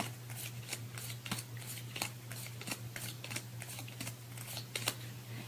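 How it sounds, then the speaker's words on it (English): Dutch Blitz playing cards being counted out onto a pile, a quiet close series of quick regular flicks and soft slaps. "Then you count out 10 cards"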